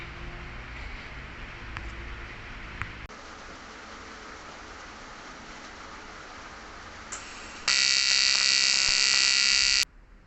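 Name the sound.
TIG welding aluminium angle bar to a radiator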